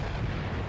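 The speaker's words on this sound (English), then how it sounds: "That was a brilliant shot by the artillery, a direct hit." Artillery shell striking a Panzer tank in an army-men trench battle video game: a single sustained, dense, roaring blast filling the whole moment, loud and close with no gap.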